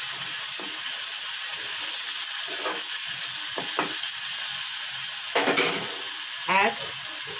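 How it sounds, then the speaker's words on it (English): Onion and ginger garlic paste frying in a pan, a steady close sizzle with occasional stirring scrapes and clinks over it. "The onion is being fried. Add 2 spoons of ginger garlic paste."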